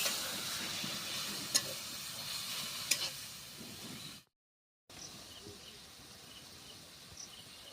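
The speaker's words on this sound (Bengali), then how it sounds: "পেঁয়াজটা যেহেতু ভালো করে ভাজা হয়ে গেছে একটু জল দিয়ে দিচ্ছি" Fried onions sizzle softly in a pan after a splash of water goes in, a low crackling hiss with a couple of sharp pops, a brief dropout, then quieter simmering.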